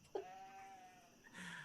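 A sheep bleating in a staging of the medieval Second Shepherds' Play, one short, faint wavering bleat heard at a distance over a quiet background, followed by a brief rustle.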